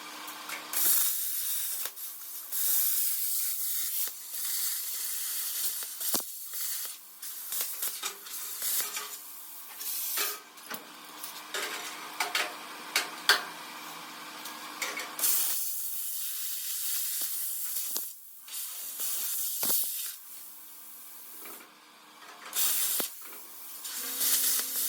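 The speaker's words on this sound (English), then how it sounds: "I'm just going to cut straight down, cut straight along, get that off both sides" A cutting tool slices through part of a car chassis during a chassis swap, giving a loud, continuous harsh hiss that pauses briefly now and then, with no talking.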